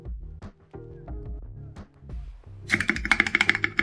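Quick clacking keystrokes on a mechanical keyboard with pen-lubed switches and keycaps, a brisk close-up burst of dense clicks and thocks that comes in after a few seconds of quieter, scattered handling sounds.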